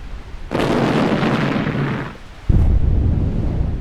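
Two heavy, rumbling blasts from burning, detonating military vehicles, the first a long roaring boom that fades, then a second sharp, loud explosion that rumbles on.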